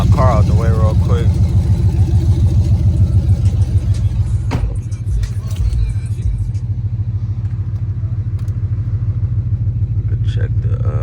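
A Dodge 300 Scat Pack with a swapped engine idles and rolls off, a loud, steady low rumble close by, with a brief dip in tone midway as it moves.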